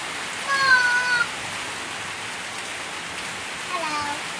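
Rain falls in a steady, soft hiss throughout, with faint cat meows and a voice briefly rising above it early and near the end.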